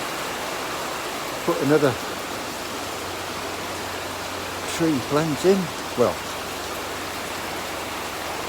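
Steady rain falls outdoors over a garden with a fish pond, a constant even hiss that continues under a man's short bursts of speech.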